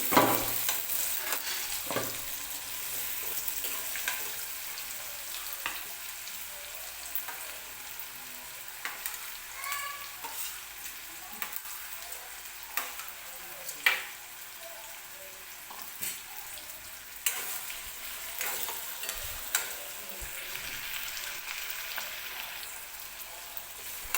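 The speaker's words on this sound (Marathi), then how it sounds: "कांदा टाकून घेते कांदा व्यवस्थित भाजून घ्यायचा आपल्याला" Onion frying in a pan while being stirred, for a spicy dry mutton dish: a continuous soft sizzle runs throughout, broken by frequent scraping and clinking strokes of a spoon, close up and with no voices.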